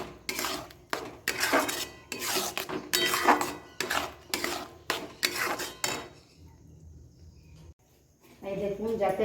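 Food being mixed in a pan: repeated bursts of spoon scraping and clattering against the metal for about six seconds, then a quieter stretch with a faint hiss.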